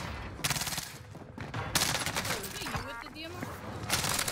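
Rapid bursts of automatic gunfire ring out in the Warzone video game on Rebirth Island, loud clustered volleys separated by brief gaps, with a player's voice talking over part of the exchange.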